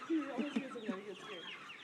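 Chickens clucking close by in short, murmuring bursts, a few sharper squawks mixed in, fairly soft.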